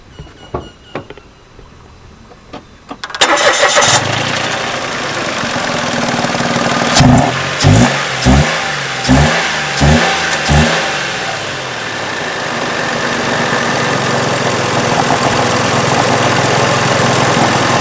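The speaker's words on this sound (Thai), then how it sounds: "เดี๋ยวสตาร์ทเครื่องก่อนดีกว่าอ่ะสตาร์ทเครื่องก่อนดีกว่าฮะ" A car engine cranks and catches after a few clicks, revs in several quick bursts, then settles into a steady, loud rumbling idle.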